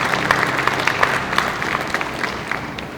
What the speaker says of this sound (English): Let's give him another round of applause and thank him.